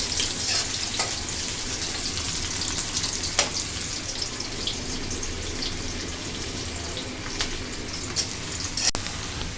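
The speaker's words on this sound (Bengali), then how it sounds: "আর পেঁয়াজটা ভাজি হয়ে গেছে" Onions sizzling steadily in a pan while cooking chicken with mung dal, a continuous crackling fry with occasional sharper pops and light stirring clatter throughout, no voices.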